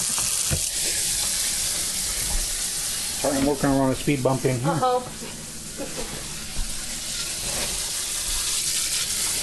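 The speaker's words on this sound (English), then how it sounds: "we're going to rinse it under cool running water." Cool tap water runs steadily through barley grains held in a fine mesh sieve in a home kitchen, a constant close hiss with a person speaking briefly over it midway.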